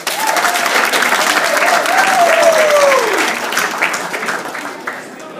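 Wedding guests applaud for the bridesmaids and maid of honor, a steady dense round of clapping filling the whole stretch, with some talk underneath, easing slightly toward the end.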